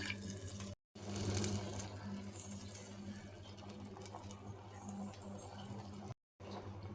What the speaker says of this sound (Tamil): இதில் 2 டம்ளர் தண்ணி ஊற்றிக்கலாம்.